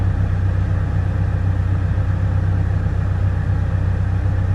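Steady low rumble of a 2017 Audi S3 engine heard from inside the cabin while driving behind a lorry, a constant drone with no talking.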